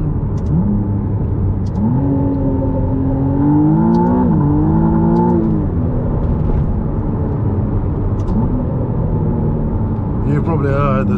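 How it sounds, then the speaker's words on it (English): A McLaren Artura accelerating hard along an A road, its engine note rising and shifting through gears with brief stutters as traction control intervenes, loud and close throughout the cabin. "You probably heard the traction control kicking in there"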